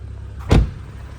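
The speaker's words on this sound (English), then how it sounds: "we're gonna pop the hood so we can take a peek under the hood" The hood of a 2015 BMW 335i xDrive with M Sport package popping open, a single short clunk standing out clearly against quiet surroundings.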